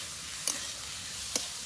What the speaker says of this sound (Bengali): এখন এর মধ্যে দিয়ে দেবো আলু, দিয়ে দেবো সিদ্ধ করা ডুমুর, এবার মশলার সাথে এটা ভালো করে কষিয়ে নেব।